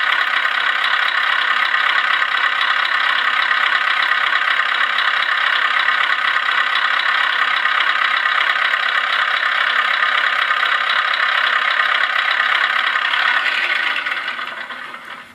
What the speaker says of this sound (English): touch the throttle, the engine sound goes on